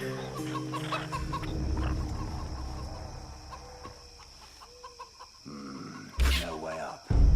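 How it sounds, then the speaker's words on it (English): Chicken clucking inside a shooter video game, several short clucks and fowl calls at moderate distance, mixed with game sounds and someone talking over them. "Fine, I won't shoot the chicken."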